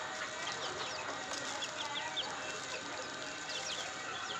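Young chicks from a homemade incubator peep faintly and repeatedly in short high chirps over a quiet background hiss, with no voices.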